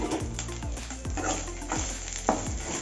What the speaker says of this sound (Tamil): இப்போ இந்த மிதமான சூட்லேயே தேங்காயை போட்டு லைட்டாக ஒரு பரட்டி விட்டுடலாம்